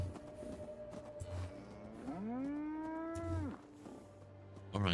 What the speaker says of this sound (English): Yep, it's a cow.